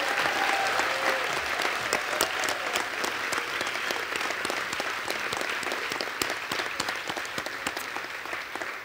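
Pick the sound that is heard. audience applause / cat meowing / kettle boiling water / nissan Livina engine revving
audience applause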